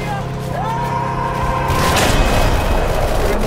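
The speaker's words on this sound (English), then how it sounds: "No, that's a bomb." A bomb explodes in a WW2 trench-warfare video game, a deep rumbling boom that swells and lingers, heavy broadband blast noise following a steady tonal drone, with game sounds around it.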